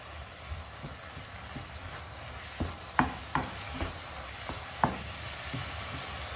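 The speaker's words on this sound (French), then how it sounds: "Je mélange bien ensemble et je laisse la cuisson continuer." A spoon scrapes and stirs chicken samosa filling with spices in a pan, giving a few sharp clinks and scrapes over a soft, steady sizzle of frying, fairly quiet and close.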